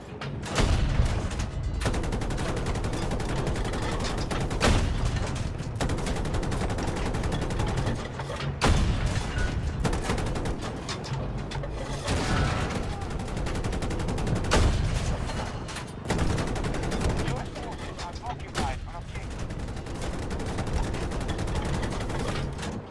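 An armored vehicle fires in Battlefield while supporting infantry on an objective. Heavy, near-continuous gunfire and booming blasts run throughout, with brief lulls between volleys.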